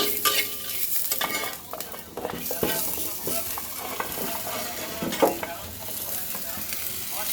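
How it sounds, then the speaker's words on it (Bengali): Vegetables hit hot oil with chili in a pan and fry with a steady sizzle, while a spoon scrapes and stirs them in irregular clattering strokes, close and moderately loud throughout. "এবার আমি সবজিগুলো দেবো।"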